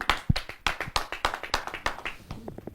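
Audience at an open mic poetry gathering welcomes a poet with clapping, a short burst of sharp, close handclaps in a quick irregular rhythm that thins out at the end.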